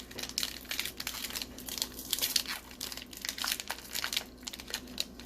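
A Pokémon card booster pack wrapper is crinkled and torn open in a continuous close, quiet rustle of plastic foil lasting several seconds.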